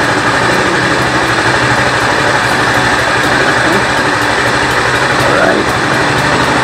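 A Husqvarna Svartpilen 200 motorcycle engine idles close by, a constant low rumble with a faint regular ticking on top, holding even for the whole stretch.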